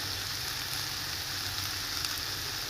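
Chopped onions fry in a pan for a meat filling, giving a steady, close, dense sizzle that holds even and unbroken from start to finish, with no one talking.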